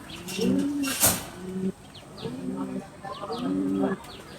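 Large pankhi pigeons coo in a loft, three deep rolling coos close by with a sharp click between the first two and faint chirps overhead.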